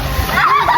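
Water splashes and sloshes loudly in a family swimming pool, close and continuous, with children's voices and chatter mixed in.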